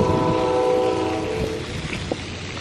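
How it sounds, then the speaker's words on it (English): A train horn sounds in long sustained blasts over the rumble of a passing train, then fades, leaving the rolling rail noise. "You can hear the train from here too."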